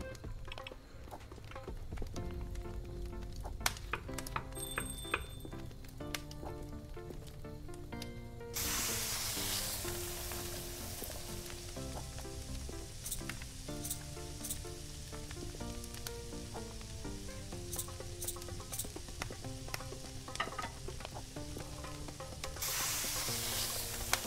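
Chicken breast sizzles on a hot grill in the restaurant cooking game Kebab Chefs, a steady loud frying hiss over a layer of upbeat background music, with no talking.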